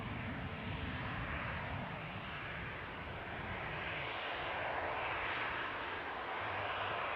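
A Eurowings jet leaving Newcastle airport for Dusseldorf gives a steady, distant engine roar with a broad rushing tone, faint and continuous throughout with no voices.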